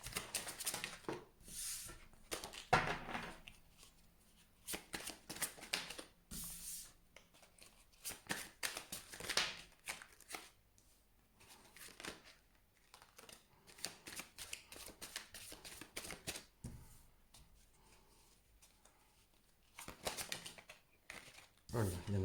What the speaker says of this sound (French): je continue à battre les cartes